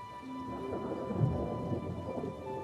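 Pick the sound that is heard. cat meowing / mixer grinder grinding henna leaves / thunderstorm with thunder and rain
thunderstorm with thunder and rain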